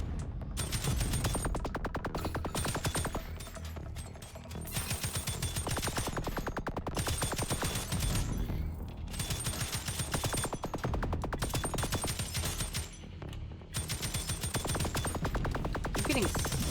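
Rapid automatic rifle fire from a horror video game rings out in dense, repeated bursts with brief pauses, loud and continuous over a heavy game soundtrack.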